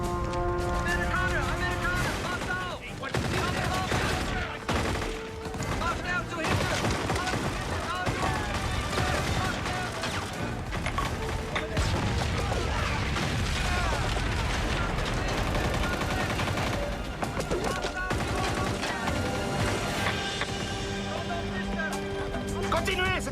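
Staged gunfire on a French film set: dense, continuous bursts of rapid shots and fusillade-like volleys run through the whole stretch, loud and close, mixed with busy background activity and some shouting.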